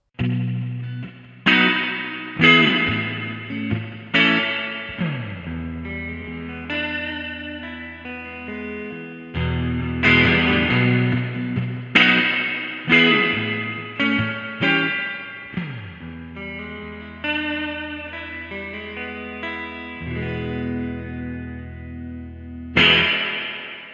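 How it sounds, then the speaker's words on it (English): Distorted electric guitar plays chords and melodic runs with a lingering reverberant tail, notes blending and ringing out rather than cutting off. "And now let's hear what the guitar sounds like with reverb switched on."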